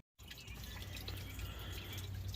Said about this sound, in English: I've already got the coolant draining